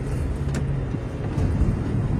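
A truck passing on a rural road through rubber plantations in North Bengkulu, Sumatra: a steady low engine rumble and road noise with slight swells, heard continuously from inside a moving vehicle.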